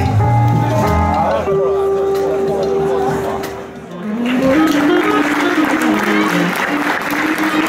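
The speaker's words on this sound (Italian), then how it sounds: "Facciamo un forte applauso a tutti." Audience applause at a fanfare band rehearsal for Beccaio 2016, loud continuous clapping that swells again after a short lull, mixed with a sustained brass note and crowd noise.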